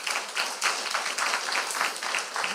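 Church audience claps for a youth worship team at a Bible quiz event, a steady, moderately loud patter of many hands that swells in small pulses and continues without pause.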